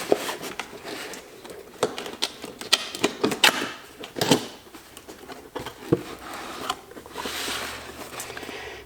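A WorkSharp MK.2 knife and tool sharpener package is unboxed close up: irregular crinkles, taps and rustling of cardboard and plastic packaging come in short bursts with brief pauses, and no one speaks.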